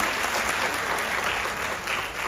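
Audience applause fills a Modicare grand business meeting in Varanasi, a dense, steady wash of many hands clapping close by without a break and with no talk over it.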